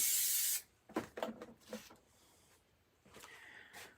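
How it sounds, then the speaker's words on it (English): Spray mount adhesive hisses from an aerosol can in a short, loud burst, followed by soft rubbing and handling noises and a second fainter hiss near the end. "And then we're going to add a little bit of spray mount onto it."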